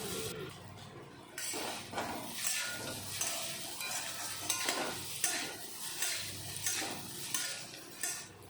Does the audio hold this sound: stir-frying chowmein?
yes